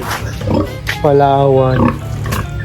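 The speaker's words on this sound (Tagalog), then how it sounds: "So ito pala Kauragons yung baboy ko" A pig on a rural farm in the Philippines gives one drawn-out, tonal grunt close by. Brief voices come before and after it.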